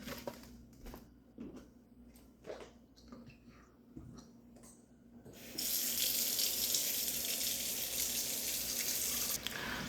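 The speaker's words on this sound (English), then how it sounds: "I'm going to run some water over here now." A few soft clinks and handling sounds, then water gushes from a kitchen tap in a steady, loud stream that continues to the end, while harvested kale is prepared for blanching.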